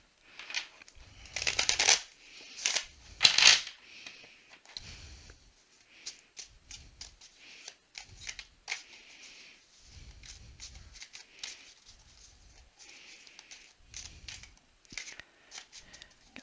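Cards are shuffled up close in repeated bursts of riffling and flicking, with brief pauses between shuffles and soft handling noises.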